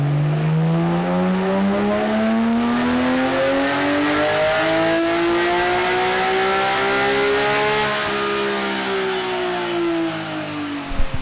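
Porsche GT3 RS engine on a dyno pull, revving up in one long steady climb with a smoothly rising pitch through the gears. It is loud and close, then drops away sharply at the end.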